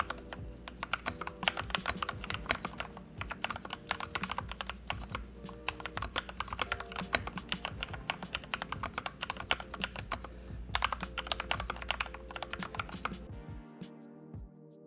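Fast typing on an Anne Pro 2 compact mechanical keyboard after its switches and stabilizers were lubricated, producing a steady stream of close keystrokes with a deeper, smoother clack, continuing for over thirteen seconds before stopping abruptly.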